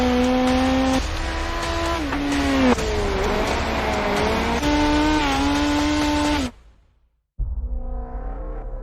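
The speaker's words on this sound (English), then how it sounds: "the field is rolling out for the start of today's 400-lap race on this .625-mile racetrack" Race car engines at Talladega, a loud steady roar of several cars rolling out with shifting engine pitch, cutting briefly to silence before another engine resumes.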